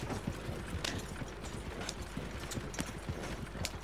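A horse clip-clops in Red Dead Redemption 2 Online with a steady, close hoofbeat rhythm at low volume, mixed with faint mechanical clicking.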